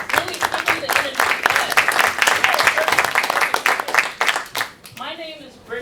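Conference attendees clap for themselves, a lively burst of applause with some cheering near the microphone, fading toward the end as a voice begins to speak.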